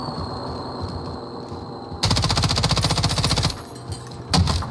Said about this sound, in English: I was shooting a guy in the sky